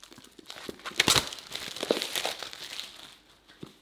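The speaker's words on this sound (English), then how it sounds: "Let me unwrap it." Wrapping paper crinkles and tears as a luxury gift box is unwrapped, close and busy, rustling in irregular bursts that peak early and then trail off into faint handling.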